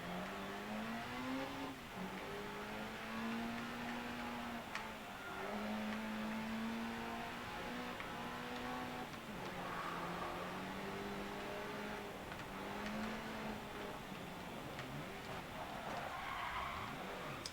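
A rally car engine in the Dirt Rally video game revs and drones continuously, pitch climbing and dropping through gear changes with tyre skids scattered throughout, loud and steady with no talk.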